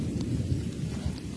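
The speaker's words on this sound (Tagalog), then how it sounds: "Diyan ang ulan." A short burst of steady rain noise on a muddy provincial road in the Philippines, a dense low rushing wash with a faint rumble beneath it.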